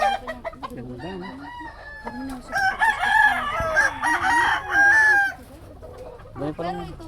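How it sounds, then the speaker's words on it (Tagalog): Chickens and a rooster on a farm with pigeons, a rooster crowing loudly and repeatedly amid steady clucking nearby, with brief voices in the background. "ang dami palang manok ni Rom."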